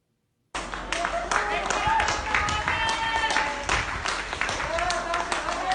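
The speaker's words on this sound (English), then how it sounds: "A chorus of applause greets Nadia Sajiz as she leaves the hospital recovering from COVID-19" Applause and cheering from a crowd of staff at Guam Memorial Hospital as a recovered COVID-19 patient leaves after more than a month of treatment, a steady dense clapping with voices mixed in throughout.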